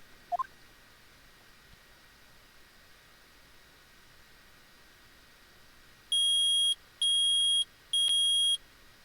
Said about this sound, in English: I permit the use of the metal detector